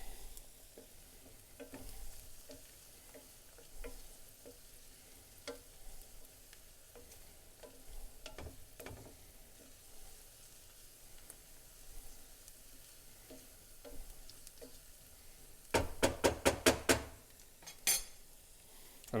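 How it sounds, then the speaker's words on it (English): Garlic simmers and sizzles in a pan with a soft, steady crackle, broken by occasional utensil stirs and scrapes, then a quick burst of rapid metallic taps near the end; no talk. "We want those to simmer for about 2 minutes."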